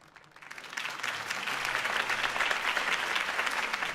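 A crowd breaks into applause after Harvey Dent's campaign speech, swelling from a quiet start into loud, sustained clapping that fills the room.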